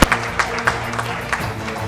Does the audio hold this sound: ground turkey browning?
no